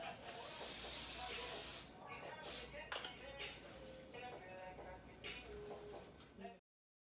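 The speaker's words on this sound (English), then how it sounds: "I'm gonna lightly use this olive oil spray for the pan" Olive oil cooking spray hisses onto a pan in a steady close burst for about two seconds, followed by quieter clatter and kitchen handling noises.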